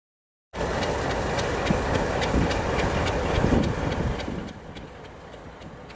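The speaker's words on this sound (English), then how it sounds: "we stopped there to let another train pass us" A passing train on the Peru Southern Rail line at Crucero Alto, high between Puno and Arequipa, rumbles close by with steady rhythmic wheel clicks, loud and continuous before easing off near the end.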